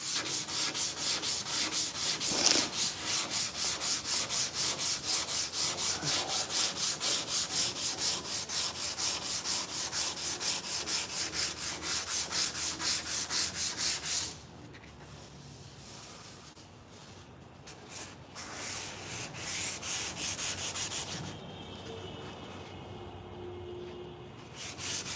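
Block sanding by hand: a loud, steady, rapid back-and-forth rasp for about fourteen seconds, then quieter, intermittent strokes with pauses, and a second burst of sanding toward the end.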